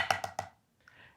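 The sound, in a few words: snare drum triplet lick with flam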